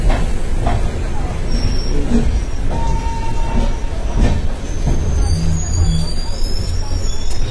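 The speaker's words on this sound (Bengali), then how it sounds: "নিউ জলপাইগুড়ি স্টেশন থেকে বেরিয়ে যাচ্ছে ট্রেন" Padatik Express train pulling out of New Jalpaiguri station, a loud steady rumble of wheels on rails with clanks and a brief squeal, heard from inside a sleeper coach while someone talks.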